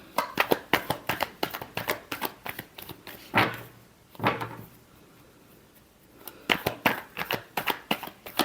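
Tarot cards being shuffled by hand, a rapid run of crisp riffling slaps in quick succession, broken by a pause with a couple of heavier thumps, then resuming close and clear.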